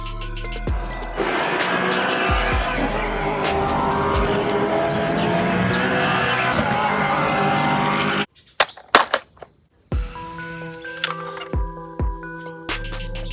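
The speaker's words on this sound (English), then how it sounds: "Racing car." A racing car roars loudly at high revs with squealing tires for several seconds, then the engine cuts to quieter bursts and idling.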